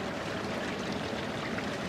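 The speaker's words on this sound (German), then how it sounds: "Und überall unter der Stadt fließt diese dunkle Brühe." Dirty brown water rushes steadily through an underground sewer tunnel beneath a city, a continuous dense gushing wash that stays close and fills the space without pause.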